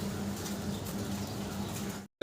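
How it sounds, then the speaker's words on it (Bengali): A pigeon, a single black-coloured female, coos softly at a pigeon seller's, low rolling murmurs repeating under a faint hum before cutting off. "আমরা এক পিস কবুতর দেখতেছি ভাইয়ের কাছে"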